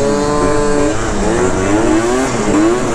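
A moped scooter ridden in wheelies through Portland streets revs hard and close, its engine pitch climbing and falling in repeated wavering sweeps over steady road roar, with no voices.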